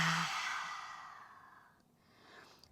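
A long open-mouthed exhale during yoga practice, a breathy rush that starts strong and fades over about two seconds, close and alone, followed by a soft quieter breath.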